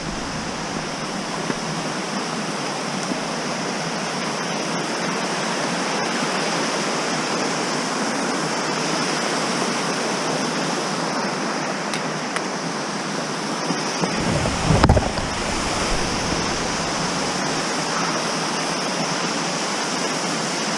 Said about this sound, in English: Not exactly a huge waterfall, but a waterfall nonetheless.